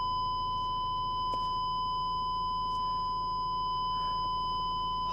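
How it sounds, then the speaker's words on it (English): An Audi A6 neglected for six months sounds a continuous steady electronic warning tone, a pure high pitch held without a break over a low idling hum, with a couple of faint clicks. "That beeping going on."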